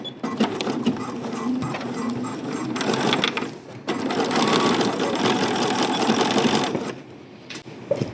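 Domestic sewing machine stitching caftan fabric, topstitching over earlier seam lines at the corners, running steadily near and loud in two long bursts with a short pause between and a brief stop near the end.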